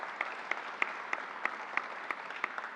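Audience applause at a Suffolk County Community College event with Governor Cuomo: faint, steady clapping from a crowd with a regular, pulsing texture, heard from a distance and without talk.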